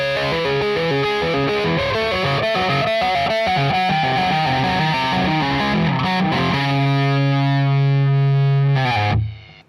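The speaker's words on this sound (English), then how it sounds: "I'm not sure I've ever played a flanger before that I've liked as much as this one for using with distorted tones." A distorted electric guitar played through a modified MXR flanger pedal, loud and up front, chugging riffs give way to a sustained chord with sweeping jet-like movement before cutting off.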